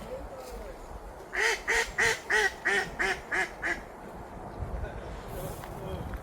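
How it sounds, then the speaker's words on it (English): Ducks near water on an urban walk give a quick run of about eight loud, evenly spaced quacks, then fall quiet against soft outdoor background noise. "Water attracts the ducks, doesn't it?"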